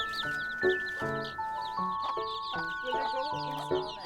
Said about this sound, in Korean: 땅거미가 내려오자 마당의 닭들도 귀가를 서두릅니다.